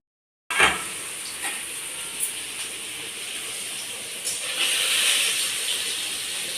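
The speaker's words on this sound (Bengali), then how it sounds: "পনিরটাকে হালকা করে একটু ভেজে নিচ্ছি" Paneer fries lightly in a hot pan, its steady sizzling hiss starting suddenly, then running continuously at close range and swelling slightly louder toward the end, with no talking.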